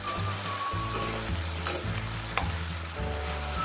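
Vegetables in a pan sizzle steadily as a lid comes off and a spoon stirs, with a few distinct scrapes and clinks over background music.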